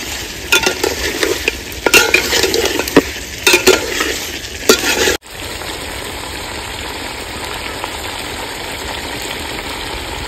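Mutton curry made with ground spice paste is stirred and fried in a pan, with close scraping strokes of a spoon over a steady sizzle, then a sudden cut to continuous frying hiss alone.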